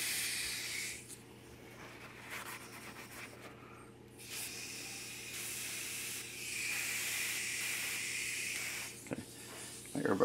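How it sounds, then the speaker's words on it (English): Airbrush hissing with paint spray in bursts, a steady broad airy hiss that drops out briefly around the middle and resumes, close by, over a faint low hum. "my airbrush is acting up a little bit"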